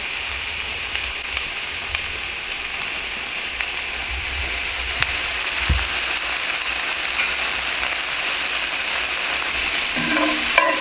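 Food sizzles steadily in a cast iron pan with olive oil as a utensil scrapes up the browned bits; the frying hiss stays continuous and close while occasional scraping scuffs come through, with no talk.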